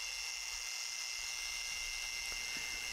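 Steady whirring drone of a car polisher working the paint of a classic BMW E30, constant and close with no pauses or talking.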